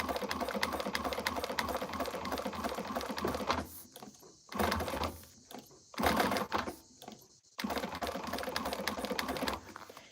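A sewing machine top stitches a flap through vinyl layers, running in fast steady bursts with brief pauses between runs, close and loud with no talking.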